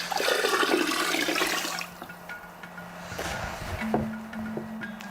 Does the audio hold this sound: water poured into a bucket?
yes